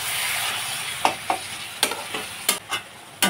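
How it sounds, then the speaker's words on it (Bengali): Eggplant and potato stir-fried with spices in a home kitchen pan, a steady sizzle under scattered sharp clinks and scrapes of a spatula stirring, close and fairly loud. "মশলার সাথে বেগুন আলুটাকেও আমি ভালোভাবে কষিয়ে নিচ্ছি।"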